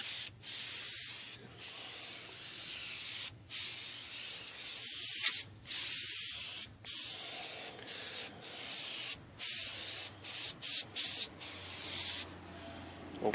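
Dollar Tree oven cleaner sprayed onto a tire: a series of short hissing aerosol bursts, some brief and some longer, separated by quiet gaps, close by and moderately faint.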